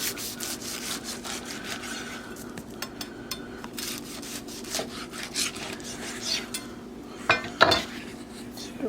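A knife saws and rubs through smoked baby back ribs from a Traeger pellet grill on a wooden board, giving a soft, continuous scraping with light clicks and a couple of louder knocks near the end, heard close up.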